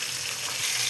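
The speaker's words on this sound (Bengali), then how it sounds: "কড়াই গরম হয়ে গেছে, তেলটা দিয়ে দিয়েছি। এবার মাছটা দিয়ে দেবো।" Kalbasu fish frying in hot oil in a kadai wok, giving a steady, loud, dense sizzle that fills the whole second with no talking.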